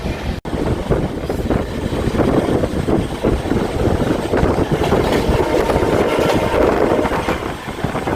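CSMT–Dhule Express hauled by a diesel locomotive runs at speed toward Dombivli, a loud steady rumble of wheels and engine with wind buffeting throughout, heard close and continuous.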